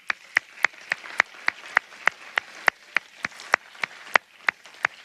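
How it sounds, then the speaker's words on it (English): Applause at a College of Pharmacy convocation for its Class of 2026 comes as thin, sparse clapping, separate crisp claps in a fairly regular pulse with a soft wash of distant hands behind them. "Let's give them another round of applause."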